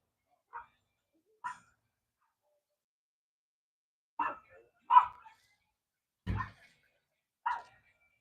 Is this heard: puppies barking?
yes